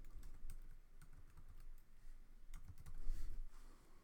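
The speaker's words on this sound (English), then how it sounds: "you would just type the words that you're looking for" Fingers tapping out words on a computer keyboard, soft, uneven clusters of key clicks at moderate distance with brief pauses between bursts and no voices.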